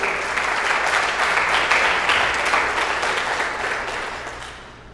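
A church congregation applauds the Lord at an evangelical service, loud dense clapping from many hands that swells and then tapers off toward the end.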